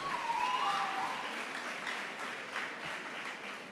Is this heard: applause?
yes